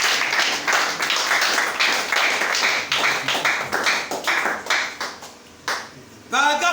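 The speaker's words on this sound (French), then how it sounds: "Acclamez très fort." A church congregation applauds loudly during a sermon, a long run of rhythmic, fast group clapping that thins toward the end, followed by a brief voice.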